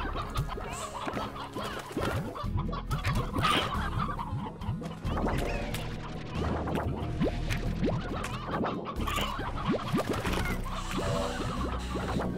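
Hens clucking in the farming video game Slime Rancher, a dense, continuous chorus of overlapping clucks and chatter, steady and close throughout with no voices.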